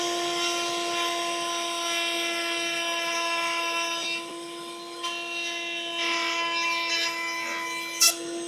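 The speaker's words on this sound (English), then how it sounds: "A little bit of sanding" Wood sanding on an old chair under repair, heard as a steady mechanical hum with intermittent gritty rubbing bursts and a sharp knock near the end.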